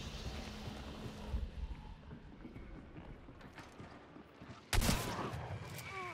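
A single loud shotgun blast rings out in a Hunt Showdown multiplayer fight, preceded by faint rustling, creaking and mechanical clatter, with a soft ringing tail afterwards.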